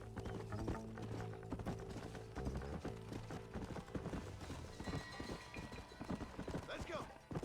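In the game Red Dead Redemption on Nintendo Switch, a horse's hooves pound in a rapid galloping rhythm beneath music and someone talking, with a short whinny mixed in.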